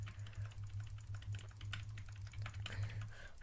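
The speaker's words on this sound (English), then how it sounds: "Now I'm using the shift on my keyboard and the shift on my mouse" Computer keyboard keys pressed in a quick, irregular run of light clicks and taps, close and fairly quiet over a steady low hum, no talk.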